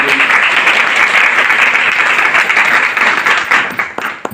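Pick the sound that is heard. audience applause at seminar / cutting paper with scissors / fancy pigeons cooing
audience applause at seminar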